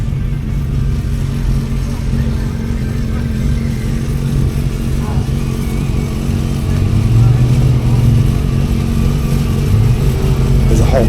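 A 1987 Nissan Skyline with a 2.5-litre RB25DET turbo straight-six drones at a hillclimb event, heard from inside as a loud, steady engine hum that swells in the second half.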